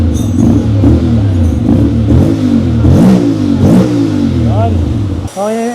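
A 2025 Honda X-ADV 750 scooter with an Akrapovic exhaust, silencer removed, revs loudly and repeatedly close by, the engine rising and falling in steady surges before a brief drop near the end.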